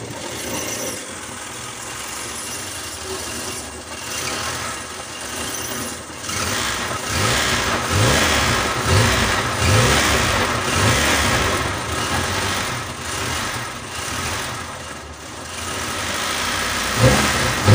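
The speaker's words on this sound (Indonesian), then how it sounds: "kalian boleh test drive ataupun starter, dengarkan suara mesin" An old car's engine runs steadily and rises into a few revving surges, loud and close with a continuous mechanical drone and no talking.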